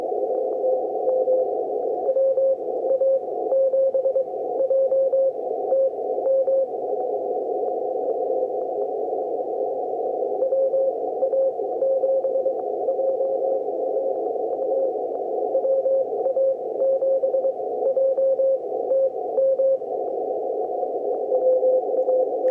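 A steady tone of on-off keyed Morse code received on a Yaesu FTdx5000MP, buried in radio hiss, the faint dots and dashes barely standing out from continuous static.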